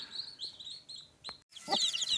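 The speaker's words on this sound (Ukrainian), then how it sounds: "Кочечка з курчатками в кліточці вилупилися" Soft high peeping of newly hatched chicks with a few low clucks from a hen in a cage, close and fairly quiet, in short bursts.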